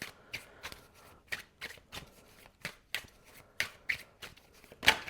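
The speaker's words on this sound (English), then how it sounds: "as I was shuffling" Tarot cards shuffled by hand in a series of crisp riffling bursts, about a dozen short flicks spaced irregularly across the clip, close and fairly quiet, with no talk.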